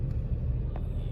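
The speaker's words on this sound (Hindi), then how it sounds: "ये ट्रैफिक है भैया" Steady low rumble of idling and slow-moving cars in a congested road near Grishneshwar temple, a continuous close engine drone with no clear horns or voices.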